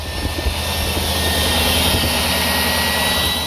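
A loud, steady whining drone from a 2003 Cadillac DeVille's electric secondary air injection pump running continuously, with a constant high-pitched tone over a low rumble.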